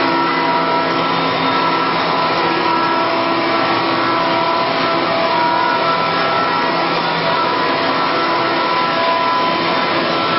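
A 2006 Mikron UCP 600 Vario machining center with a 20,000 RPM spindle and 120-tool magazine runs with a steady, dense whirring hiss, constant and fairly loud throughout, without talk.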